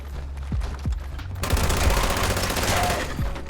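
Gunfire in Fallout 76, sharp low thumping shots spaced out at first, then a dense continuous burst of rapid automatic fire, loud and close, ending with another single report.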